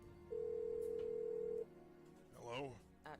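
A phone call in the adventure game Blackwell Unbound: one sustained ring tone lasting over a second, then a voice begins speaking.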